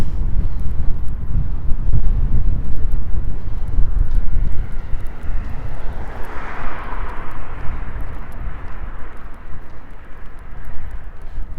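Gusting wind buffets the microphone outdoors during a walk along a creek path in Regina, a steady rumbling roar that swells and eases without pause.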